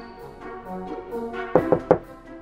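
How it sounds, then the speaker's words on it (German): Knocking on a house door in a toy cartoon: three quick, close knocks near the end, after a soft background music bed. "Sollen wir mal klopfen?"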